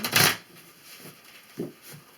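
A quick riffle of tarot cards being shuffled, followed by a few softer taps and shuffles, close up in a quiet room.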